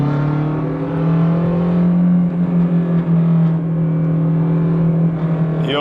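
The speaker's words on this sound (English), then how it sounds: "you hear the turbo spool, which is at higher RPMs, you can really hear that" A Lancia Hyena, a Zagato-bodied hatchback, is driven hard at high revs, a loud sustained engine drone overlaid with a whining turbo spool heard from close by, without speech.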